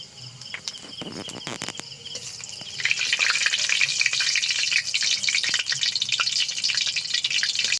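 Whole dried red chillies, cumin seeds and whole garam masala crackle and sizzle in hot oil for a chicken biryani, a dense bright frying hiss that swells loudly after a few scattered pops and spits.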